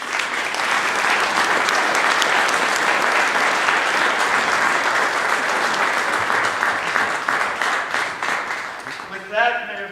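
A crowd gives sustained, loud applause at a ribbon-cutting grand opening, with even, dense clapping that fades slightly before a voice begins at the very end.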